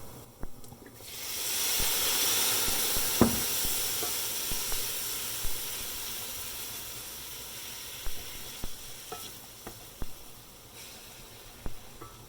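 White wine hits a hot skillet on raised heat and erupts into a loud, steady sizzle that gradually settles into a softer hiss, with faint scraping clicks from stirring scattered throughout.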